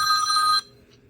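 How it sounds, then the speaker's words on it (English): A phone in a workshop rings with an incoming call, a loud, bright electronic tone lasting about half a second before stopping abruptly, followed by near silence and a faint blip. "Of course, someone's calling me now."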